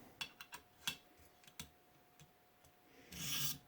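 Kershaw Shuffle knife blade drawn across a ViperSharp precision sharpening stone, quiet irregular scraping strokes with soft clicks, ending in a longer hissing rasp.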